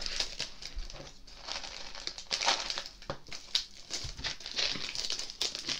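Plastic bags of sweets for decorating a gingerbread house crinkle and crunch as they are handled, a busy, irregular rustle of close crackles and scrunches running throughout at moderate loudness.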